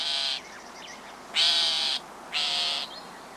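A northern shrike gives three harsh, buzzy calls, each about half a second long and spaced roughly a second apart, clear and fairly close against a quiet background.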